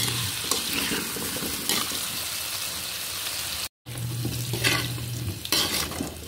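Vegetables fry in a pan for turkey kaldereta, giving a steady close sizzle with occasional stirring scrapes, and the sound drops out briefly partway through.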